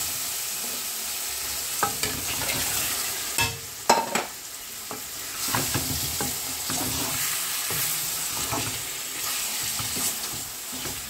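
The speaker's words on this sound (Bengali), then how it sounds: "এখন আমি মাছ ছাড়ি দিই।" Fresh carp frying in hot oil with tomato chutney, with a loud continuous sizzle broken by repeated stirring clatters and scrapes in the pan throughout.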